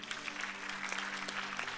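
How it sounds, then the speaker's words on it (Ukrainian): A church congregation claps steadily and densely, a short burst of applause with a faint sustained tone underneath. "І дамо великі оплески."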